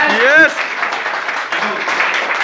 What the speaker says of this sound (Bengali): প্রত্যেকের কাছে তোমার জন্য একটা হাততালি চাই